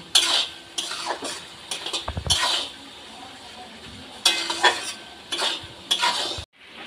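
Chicken pieces going into a pan of frying onion and capsicum for chilli chicken, with clinking spatula strokes and bursts of sizzling in short uneven clusters, close and fairly loud, no talk.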